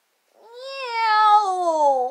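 A cartoon cat in a SpongeBob episode lets out one long, drawn-out meow that rises and then slowly falls in pitch, loud and clear with nothing else behind it.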